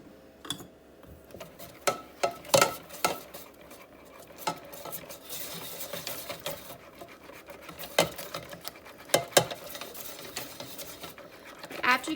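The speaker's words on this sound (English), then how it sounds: "After you get this all whisked up together" A whisk clinks and scrapes against a bowl while blending peach BBQ sauce ingredients, including garlic powder, onion powder, pink Himalayan salt and pepper, in irregular sharp taps and stirring swishes, with a person speaking now and then.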